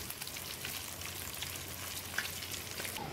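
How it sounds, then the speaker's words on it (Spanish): Cojinúa fish frying in oil gives a steady, soft crackling sizzle with a faint low hum beneath it, continuous and even throughout with no talk. "La cojinúa se sigue friendo"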